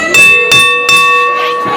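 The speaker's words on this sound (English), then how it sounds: "There's the bell." A wrestling ring bell rings three times in quick succession at a match, each strike loud and metallic with a long ringing tail, followed by fainter crowd noise.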